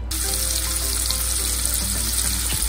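Steady, dense sizzling of Cajun-spiced shrimp frying in butter in a hot pan, with faint crackles and a low kitchen hum underneath, continuous and fairly close.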